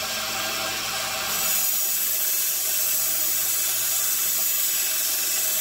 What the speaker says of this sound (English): In the high spots, I'll just grind a little bit more.